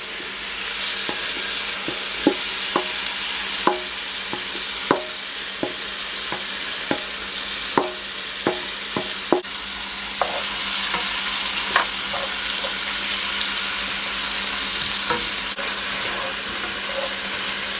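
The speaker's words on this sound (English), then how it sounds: "Just add everything to the pot. Just allow it to saute for at least a minute." Onion, scallion, carrot and potato sauté in a pot for Jamaican fricassee chicken, with a constant frying sizzle and a steady series of sharp utensil taps and scrapes against the pot.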